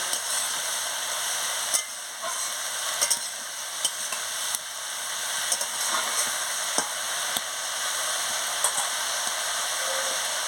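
Chili powder being stirred into frying chuna fish chachchari: a steady close sizzle throughout, broken by sharp utensil scrapes and clicks at irregular intervals, with no talking.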